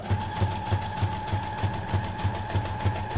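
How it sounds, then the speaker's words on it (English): A sewing machine runs a zigzag stitch through a small cardboard box, its needle thumping in a fast, steady rhythm of about three strokes per second over a constant motor whir, close and alone. "I'm going to do a zigzag stitch on here"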